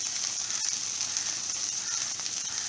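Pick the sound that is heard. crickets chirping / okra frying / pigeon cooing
okra frying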